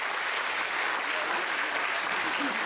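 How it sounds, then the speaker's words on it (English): Audience applause for a band at a Battle of the Bands contest, a steady, even roar of many hands clapping throughout, with faint voices blended underneath. "Round of applause, please."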